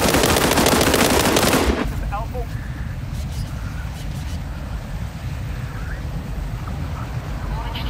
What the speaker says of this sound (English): with this airstrike here, baby